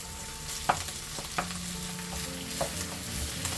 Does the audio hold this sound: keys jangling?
no